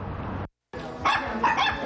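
Puppies bark and yip from cages and pens inside a pet store, a dense, close chorus of overlapping barks that breaks off for a moment and then returns louder.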